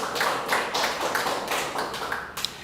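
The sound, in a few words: congregation clapping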